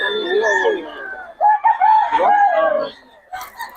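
A Boston Sweater gamecock rooster crows loudly and close by at a Bocaue market, a drawn-out harmonic call lasting a few seconds, followed by a short burst of background noise.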